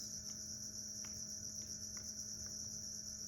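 Crickets chirp at night, a steady high trilling chorus with soft rhythmic pulses, distant and faint over a quiet background, no voices.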